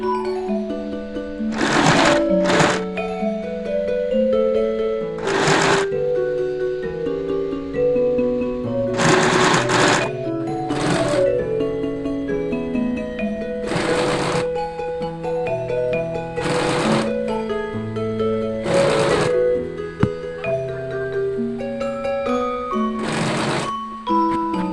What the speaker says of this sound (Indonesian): kita akan jahit rumbainya pas di tanda yang sudah kita buat.